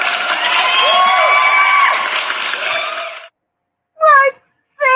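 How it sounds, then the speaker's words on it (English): Studio audience cheering and whooping with applause, loud and sustained for about three seconds before cutting off, followed by two short bursts of a voice. "Let me give her a round of applause"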